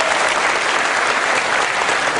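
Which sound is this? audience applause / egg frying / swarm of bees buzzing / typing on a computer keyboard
audience applause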